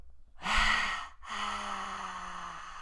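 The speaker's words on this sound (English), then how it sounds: "Exhale it out." A long, breathy exhale during a yogic breathing practice, close and soft, with a brief pause and then a second sustained outward breath with a faint hum.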